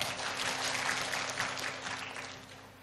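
Steady applause from a crowd, dense clapping that holds at an even level throughout without pause.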